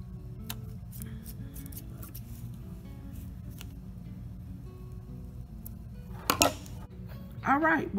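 Scissors trim loose threads from a freshly sewn pillow: faint, brief snips over a low steady hum, followed by a couple of sharper, louder cuts near the end.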